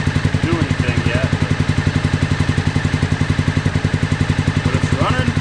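A Gen 5 Honda VFR motorcycle engine runs close by at a fast, steady idle with a loud, even, rapid pulsing throb, while brief voice fragments sound faintly over it.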